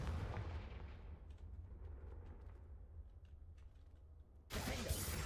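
Confringo spell blast in the video game Hogwarts Legacy, a heavy booming impact that rumbles and decays, followed by a second sharp loud blast near the end.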